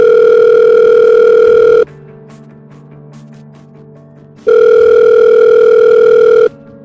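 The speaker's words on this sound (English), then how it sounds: "The phone rang in the middle of the night" A telephone rings at night in two long, loud, steady electronic bursts separated by a short quiet gap, close and alone with no talk.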